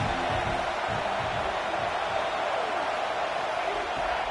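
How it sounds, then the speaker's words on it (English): Steady, dense roar of a stadium crowd at a South Carolina versus Purdue college football game, loud and unbroken throughout, with no distinct voices standing out. "This crowd trying to make life miserable for this offense."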